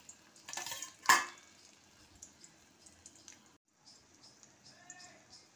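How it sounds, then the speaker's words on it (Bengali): Cashews, raisins, green cardamom, a bay leaf and green chillies stirred in white oil with a little ghee, a couple of sharp utensil scrapes early on, then a faint, quiet sizzle. "কাজু কিশমিশ ছোটো এলাচ দেওয়ার পর ভালো করে নাড়লাম।"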